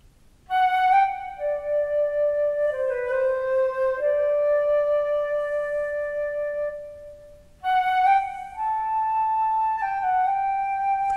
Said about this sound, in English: And the flute, sounds like this.